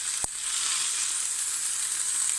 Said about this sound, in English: So over here, cooking the burgers,